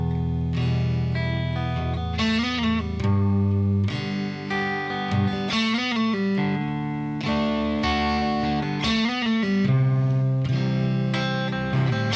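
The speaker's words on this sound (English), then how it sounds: "the main riff included the same lick repeated after different chords" Electric guitar strumming open chords with a distorted, effected tone, repeating the same short lead lick after each chord change, loud and steady throughout with no talk.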